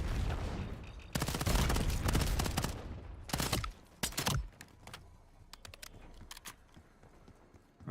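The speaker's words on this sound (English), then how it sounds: "Cluster grenade going up." Bursts of gunfire and a cluster grenade going off in the video game Marvel Rivals: a dense, loud volley of shots and blasts at first, then a few sharp pops and scattered clicks trailing off more quietly.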